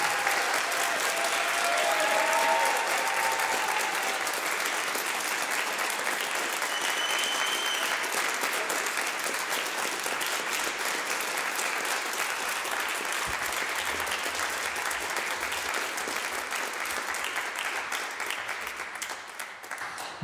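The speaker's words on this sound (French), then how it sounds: "On l'applaudit très fort." An audience gives a singer a long, sustained round of applause, a dense, even roar of clapping from a large crowd that stays steady for a long stretch and eases off slightly near the end.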